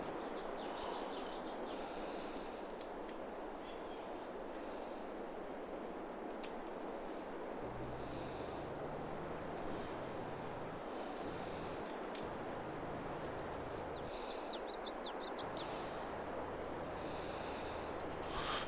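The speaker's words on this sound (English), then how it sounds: "Gee, the wind's loud." Strong outdoor wind buffeting the microphone as a steady roaring rush with low rumbling gusts, plus faint bird chirps in the distance.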